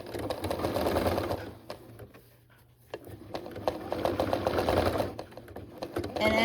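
A sewing machine stitching through the thick layered fabric of a rag quilt runs in a steady mechanical whir, pauses briefly midway, then starts up again close and clear.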